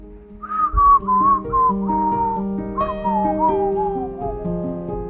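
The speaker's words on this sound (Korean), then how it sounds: "휘파람을 불며" A person whistles a wavering, gliding melody alone, steady and fairly close, with a low accompanying tone underneath.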